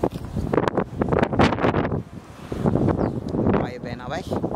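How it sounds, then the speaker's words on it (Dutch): Strong wind buffets the microphone in a steady roar, with a person talking over it. "Oh, wat een wind."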